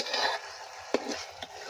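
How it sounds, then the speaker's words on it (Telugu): A curry stirred firmly in a cooking pot, giving short scraping strokes with a couple of sharp metallic knocks against the pot, close and moderately loud. "కూర మంచిగా కలుపుతాను గట్టిగా"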